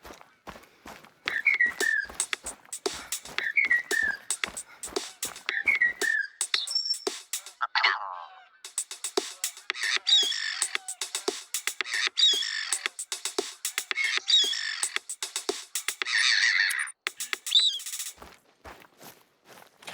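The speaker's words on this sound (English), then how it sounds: "We recorded the call of some birds and made this." A short novelty tune assembled from recorded bird calls: repeated chirps and whistled bird notes in a bouncy rhythm over steady ticking clicks, loud and close, with brief gaps and no talk.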